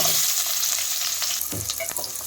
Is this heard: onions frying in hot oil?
yes